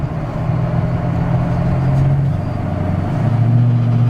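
A Caprice hot rod's engine drones steadily up close with a low, even rumble, its pitch rising slightly toward the end as it pulls harder, with no voices over it.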